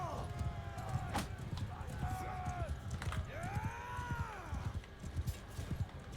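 Horse hooves clatter in a rapid galloping rhythm during a Mount & Blade 2 Bannerlord castle siege, mixed into a busy battle din with shouting voices and other noise throughout.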